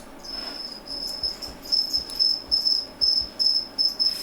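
Crickets chirp steadily in a video game, a high, regular pulsing trill repeating about twice per second, close and clear with faint low thumps beneath and no talking.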